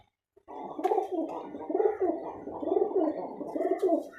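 A Giribaz pigeon coos close by in a repeated low, throaty rolling rhythm, several phrases in a row with faint clicks and rustles, no talking.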